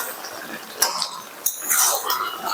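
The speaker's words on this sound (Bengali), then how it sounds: "এবার আমি ঢাকনাটি খুলে নেব।" A metal lid is lifted off a pot of mutton cooking in its own released juices, giving two sharp clinks of metal on metal followed by soft sizzling and bubbling.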